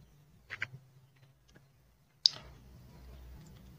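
A computer mouse clicks, with a pair of soft quick clicks followed by a single louder, sharper click and faint room hum.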